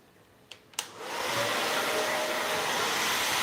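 A hair dryer fitted with a diffuser and set to high heat switches on after two short clicks, then blows a steady, loud, broad whoosh of air that holds unchanged to the end.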